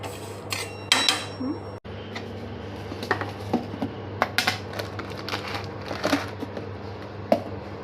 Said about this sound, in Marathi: अशी उडदाची डाळ लाल भाजून घ्यायची